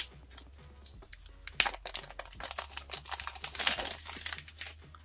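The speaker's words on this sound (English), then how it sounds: "So let me quickly peel off all of these stickers right now." Crinkly plastic protective stickers being peeled off a new blue Realme phone, close and crackling in irregular bursts, with no talking.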